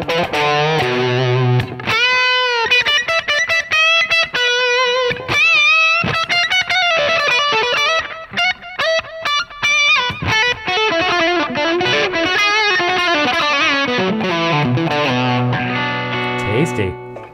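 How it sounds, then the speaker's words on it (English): A heavily distorted electric guitar through a Line 6 HX Stomp, Brit Plexi Bright drive maxed, plays sustained chords and bent lead notes, trailing transistor tape delay echoes and springy reverb, loud and continuous with brief gaps. "Brit Plexi Bright with the drive on 10, a little bit of transistor tape delay, a little bit of spring reverb"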